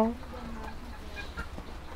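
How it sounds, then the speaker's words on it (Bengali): Broiler chickens on a hot poultry farm give soft, scattered clucks and low calls, with no single bird standing out. The calls are fairly faint and continuous over a murmur of background noise. "মুরগি সবগুলো পানির পটের চতুর্পাশে শুয়ে আছে"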